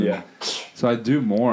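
A person gives one short, sharp sneeze close to the microphone, and talking comes right before and after it.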